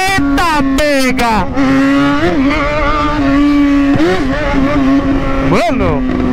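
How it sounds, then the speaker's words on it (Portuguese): A Yamaha XJ6 motorcycle engine revs hard and loud up close, with sharp rising and falling throttle blips and a steady idle drone between them. "Olha o barulho dessa moto."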